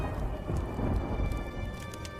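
Rain falls steadily with a low, rolling rumble of thunder underneath as dark storm clouds gather, a continuous wash of noise with no voices.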